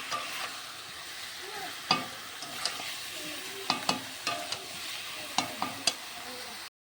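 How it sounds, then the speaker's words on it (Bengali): Chicken frying in oil for kosha meat, a steady sizzle broken by repeated sharp scrapes and clinks of a spatula stirring the pan close by. "আমার এখানে কিন্তু চিকেনটা কষা হচ্ছে একদম তেল ছেড়ে দিয়েছে"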